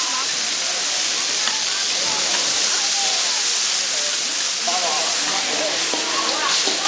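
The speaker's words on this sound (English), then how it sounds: "I actually heard the dumplings sizzling" Dense, steady hiss of dumplings sizzling on a hot griddle at a Chinese street food stall, with a busy crowd talking faintly in the background.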